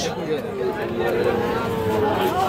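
Young Friesian bull calf, about two months old, gives a drawn-out moo that wavers for over two seconds at a cattle market, with crowd chatter murmuring in the background.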